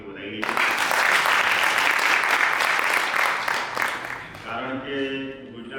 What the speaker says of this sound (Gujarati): સૌપ્રથમ તમિલનાડુથી પધારેલા આપણા સાંસદ સદસ્યશ્રીનો આપણે જોરદાર તાળીઓથી વધાવી લઈએ